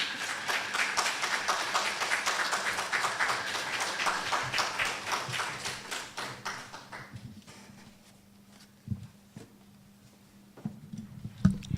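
Audience applause after a lecture, dense steady clapping that fills the room for several seconds, then fades out into quiet with a few scattered claps and small noises.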